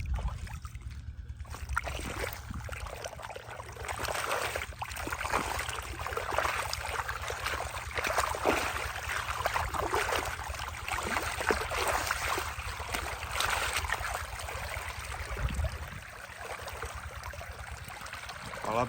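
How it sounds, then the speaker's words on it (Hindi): Irrigation water flowing into a crop field, a steady broadband rush and gurgle that stays fairly constant throughout at moderate distance, with no one talking. "पानी को आगे छोड़ दिया है।"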